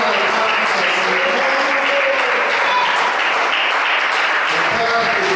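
A church congregation claps hands in praise during a Spanish-language service, a loud, continuous wash of many hands, with faint voices underneath.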